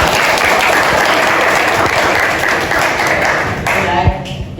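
Vocational school students in a classroom clap together, a loud, dense, continuous patter of many hands filling the room, tapering slightly at the end as a voice starts in.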